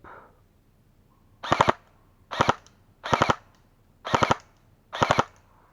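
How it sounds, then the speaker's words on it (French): An airsoft gun fires BBs in automatic mode outdoors, with five sharp, rapid bursts spaced about a second apart against near silence. "si je passe au mode auto et que je tire"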